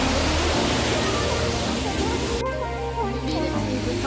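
Steady broadband rush of a waterfall in San Francisco, heard up close as continuous loud roaring water that dips briefly partway through and then swells back.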